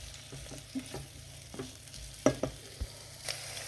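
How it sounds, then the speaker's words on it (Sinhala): Curry leaves and cinnamon bark frying in oil inside a rice cooker, with soft sizzling under scattered stirring clinks and scrapes, a few sharper taps standing out, close and fairly quiet. "පොඩ්ඩක් හොඳට මික්ස් කරගන්න පුළුවන් අපිට. චුට්ටක් බැදෙනකම්."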